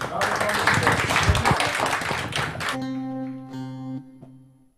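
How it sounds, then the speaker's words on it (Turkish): A crowd claps vigorously for Fadime Dalgıç, a thick burst of hand claps that stops abruptly and gives way to steady electronic tones and fading sound. "alkışlar Fadime Dalgıç'a gelsin efendim."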